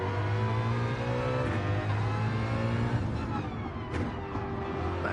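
Race car engine in Gran Turismo 7 during a manufacturer's cup round, droning loud and steady with layered harmonics, pitch climbing as the car accelerates out of a corner, a brief sharp whine near the end.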